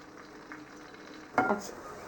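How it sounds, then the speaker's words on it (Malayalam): Green chilies, garlic and ginger frying in hot oil, a soft steady sizzle that swells briefly when the pan is stirred or more goes in, with no talking. "പച്ചമുളക് വറുക്കണം, വെളുത്തുള്ളി വറുക്കണം, ഇഞ്ചി വറുക്കണം."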